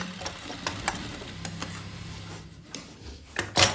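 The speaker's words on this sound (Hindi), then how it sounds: "अब इस पर फोल्ड करके सिलाई लगा दो।" A sewing machine stitches through folded fabric in short, close bursts of rapid ticking and clatter. It sounds fairly quiet, with a few sharp knocks between runs and no talking.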